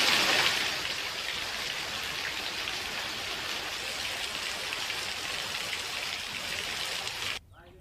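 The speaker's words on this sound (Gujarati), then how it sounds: "સવારે વરસાદ વરસતા વાતાવરણ ખુશનુમા થયું." Steady rain falls in Ahmedabad, a dense, even hiss of drops on surfaces that holds throughout before stopping abruptly near the end.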